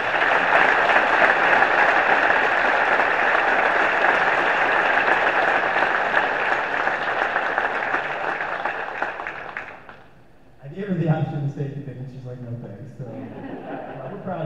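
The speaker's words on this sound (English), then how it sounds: "Give her a round of applause" Sustained applause from a ceremony audience fills most of the span at steady volume, then fades out and gives way to someone speaking.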